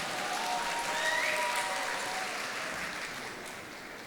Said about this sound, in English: Let us give one more round of applause for Miss Tharte Darla